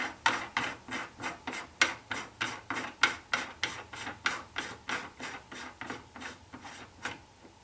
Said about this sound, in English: I'm going to thread the die down until it comes in contact with the case.